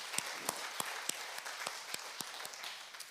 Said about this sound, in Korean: 박수로서 하나님께 영광을 돌리시기 바랍니다.